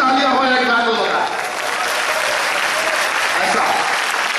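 Audience applause fills a poetry mushaira in Raebareli: dense, sustained clapping from a crowd, loud and steady across the whole stretch, with a voice audible underneath at the start.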